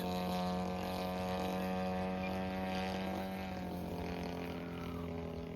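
Scratch-built RC T-34A model airplane engine buzzing steadily on its landing approach, a continuous high-pitched propeller drone with rich harmonics heard from a distance outdoors.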